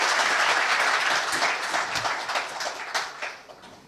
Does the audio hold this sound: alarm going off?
no